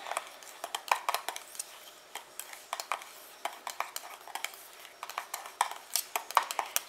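A homemade winter foot cream mixture is stirred in a container, with repeated clinking and scraping taps of a utensil coming in an irregular rhythm, close and fairly quiet, with no talking.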